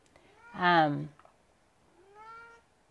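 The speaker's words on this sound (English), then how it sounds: "I see you brought your cat with you again. Maybe you could keep your cat out of here. He's noisy." A cat gives a loud, close meow and then a softer second one a moment later, with quiet room tone around both.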